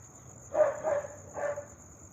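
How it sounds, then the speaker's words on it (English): Dogs barking at night, heard as three distinct barks at moderate distance, the first two close together and the third after a short pause, over a quiet background with a steady high electronic tone. "I never hear these dogs barking, and they're barking like crazy tonight"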